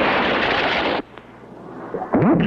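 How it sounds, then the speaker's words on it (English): A loud cartoon explosion hits a ship's deck from a falling projectile in a 1959-60 animated series, a sustained roaring blast that cuts off abruptly into quiet rumbling, followed by a brief voice. "Wow, what an explosion."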